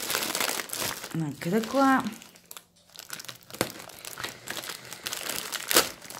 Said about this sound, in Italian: questo il pacco. Adesso lo apriamo insieme